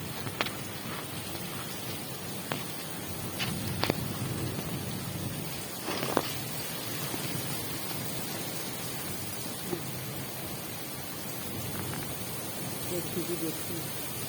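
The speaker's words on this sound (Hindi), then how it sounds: "इतनी तेज बारिश हो रही है।" Heavy rain falls steadily in a constant hiss, with occasional faint distant thunder and a few sharp knocks, a monsoon downpour outdoors during the day.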